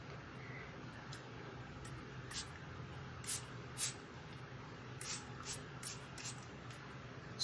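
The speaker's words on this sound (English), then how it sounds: "take your apple cider solution and spritz" A spray bottle spritzing apple cider solution onto hair during a deep hair treatment, a series of short, quiet hissing puffs in irregular succession over faint room hum.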